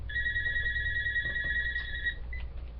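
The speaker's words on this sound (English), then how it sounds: "And I am getting a phone call." A mobile phone rings for an incoming call, a steady electronic two-tone ring held for about two seconds, then a short final chirp, clear over a low room hum.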